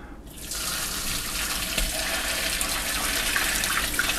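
Homemade chicken bone broth pours through a colander and sieve into a bowl, a steady watery rush and splatter continuing evenly, close by.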